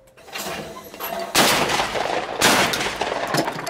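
Two loud shotgun blasts from a Benelli Montefeltro ring out about a second apart on an outdoor sporting clays course, each a sharp crack with a ringing tail, over low background murmur.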